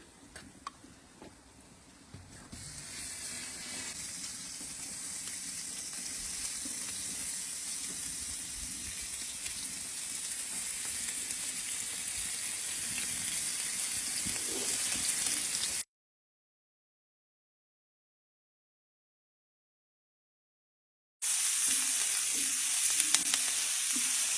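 Food sizzling and frying steadily in lard inside a cauldron over an open fire at an outdoor cookout, a continuous close crackling hiss with no talk, cut off by a gap of silence near the end before the sizzle resumes.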